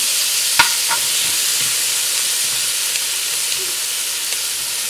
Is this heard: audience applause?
no